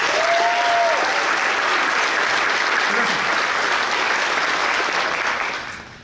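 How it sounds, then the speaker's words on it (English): A crowd at a firefighter academy recruit graduation bursts into loud, continuous applause for the graduates, a thick even roar of clapping with a brief faint vocal tone early on, tapering off at the very end. "a huge round of applause to all the graduates"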